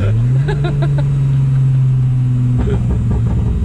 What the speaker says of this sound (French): je sais pas si vous entendez même le bruit au turbo à la décharge, c'est juste incroyable